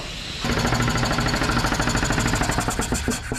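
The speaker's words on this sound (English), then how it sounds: "I'm gonna have to unplug the air compressor" An air compressor in a wind-damaged workshop kicks on abruptly and runs loud and close with a fast, steady, hammering piston pulse that continues without pause.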